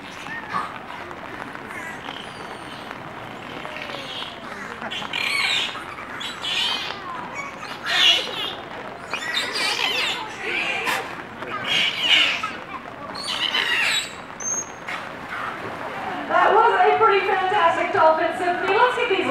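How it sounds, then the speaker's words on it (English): Dolphin vocalizations at an aquarium show: a run of squeaky whistles, chirps and rapid clicking bursts played over a sound system, growing louder toward the end, with some crowd noise underneath. "some of those dolphin sounds are a bit along the lines of this"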